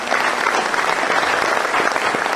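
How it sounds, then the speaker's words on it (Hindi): An audience at a business meeting gives a round of applause, a dense, even wash of many hands clapping that stays steady and fairly loud throughout, with no voices heard. "बाकी हमारे सभी आइडियल अवधेश नारायण सर के लिए एक बार शानदार वाली तालियां।"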